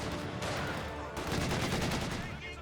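A DShK heavy machine gun fires steady sustained bursts in a Company of Heroes 2 battle, with dense, loud rattling gunfire and other weapons crackling across the mix; no voice rises above the combat.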